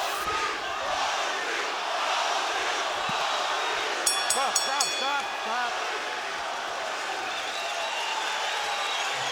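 A boxing arena crowd roars through the first round of Shane Mosley vs Ricardo Mayorga, a broad continuous cheer with brief sharp spikes. Voices shout over it from ringside.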